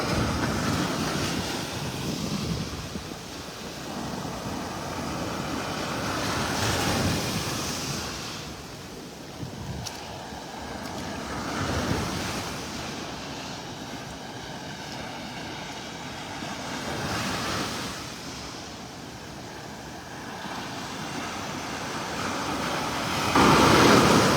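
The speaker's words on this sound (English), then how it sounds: "Doesn't look like this storm brought any big surfing waves" Waves roll and break against the shore in slow surges after a storm, on a beach in North Naples, Florida, mixed with gusty wind rumbling across the microphone.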